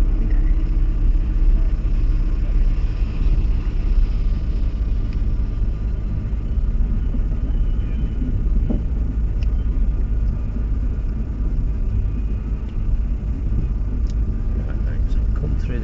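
A Nissan GT-R coasts down a pit lane with a steady low rumble of engine and road noise, close and continuous, while a voice talks over it.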